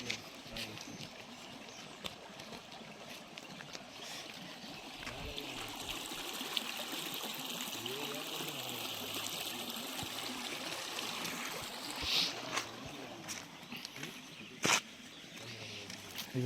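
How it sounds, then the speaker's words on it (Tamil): A small stream of water flowing under a small bridge, a faint, steady trickle with some birds and a few brief clicks over quiet background. "தண்ணி போயிட்டுருக்கு."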